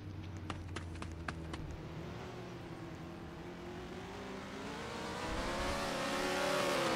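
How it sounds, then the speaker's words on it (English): A Lamborghini engine revs in a video game, faint and somewhat distant, its pitch climbing and swelling louder toward the end after a few quick clicks. "I hear that freaking Lambo again."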